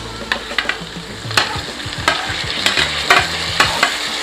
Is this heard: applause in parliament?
no